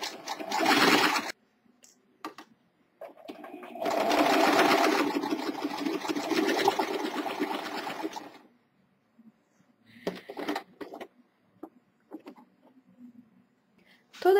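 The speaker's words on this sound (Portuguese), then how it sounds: "E vou seguir com a costura reta." Sewing machine stitching a straight seam on a straight skirt, with two close, fast whirring runs, the longer one lasting about four seconds, separated and followed by quiet pauses and small handling clicks.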